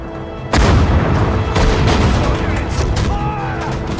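Artillery fire in the Sudden Strike 4 war strategy game: a heavy boom bursts in after a short lead-in and rolls on as a sustained, loud barrage of rumbling blasts, with faint battlefield chatter mixed underneath.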